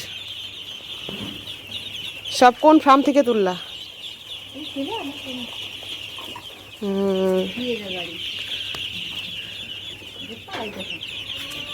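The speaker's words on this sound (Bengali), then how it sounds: "প্রচুর হাঁস" Ducks and ducklings kept on a rooftop farm call out in short harmonic bursts, clustered around two loud spells, while people talk nearby over a steady background hum.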